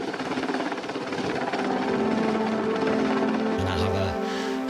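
A rescue helicopter hovers with a steady, loud rotor and engine drone running throughout, its whine shifting near the end.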